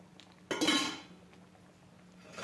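A metal spoon scrapes and clinks once against a cooking pot while bottle gourd sambar with salt is stirred, a brief close clatter followed by quiet kitchen background.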